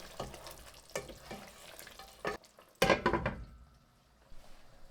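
Chicken korma with a yogurt and spice sauce being stirred as it cooks in a pan, soft sizzling under intermittent scraping and clattering strokes, fairly faint with brief louder bursts and no voices.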